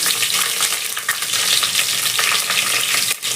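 Slit green chillies sizzle and crackle in hot oil with cumin and dried red chillies for dal khichdi, giving a loud, close, continuous frying hiss that is occasionally stirred.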